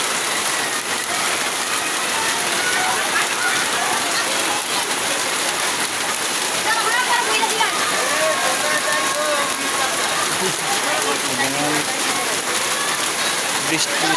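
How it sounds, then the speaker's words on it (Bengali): Heavy rain pours steadily and loudly in a dense, even hiss throughout, with a voice speaking faintly under it. "এই যে প্রচুর বৃষ্টি হইতেছে, প্রচুর বৃষ্টি।"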